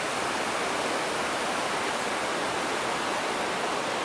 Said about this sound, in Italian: Ecco qua il fiume Cismon.